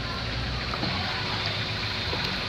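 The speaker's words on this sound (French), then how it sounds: "Tu verses dans ton seau." Tap water poured into a bucket makes a continuous, fairly faint gushing wash that runs steadily and without pause throughout.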